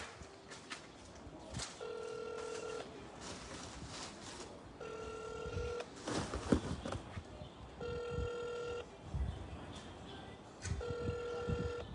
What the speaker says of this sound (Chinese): 你连电话都不敢接啊